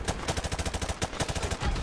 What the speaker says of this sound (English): The gun sounds are just like from COD 4 Remastered.